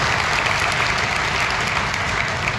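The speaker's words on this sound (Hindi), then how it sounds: "मैं निवेदन करता हूं आपसे कि हमारे यशस्वी मुख्यमंत्री जी के लिए जोरदार तालियों से स्वागत करने का निवेदन करें" An audience applauds to welcome the Chief Minister at a groundbreaking ceremony for a plywood factory in Malanpur, a dense continuous wash of clapping under heavy low-end rumble from an outdoor crowd.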